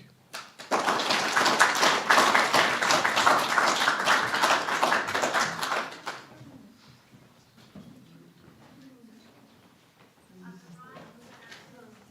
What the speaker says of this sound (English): So with a warm round of applause, let's welcome Rhoslyn Singh.